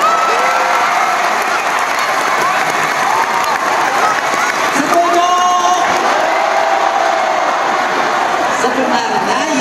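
Children shouting and cheering in a loud crowd at a school event, sustained whoops and applause filling the whole stretch.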